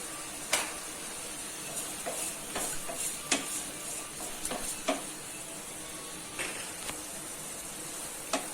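A spoon stirs butter beans and potato gravy in a pot, with scattered light scraping clicks and taps over a faint, steady simmering hiss.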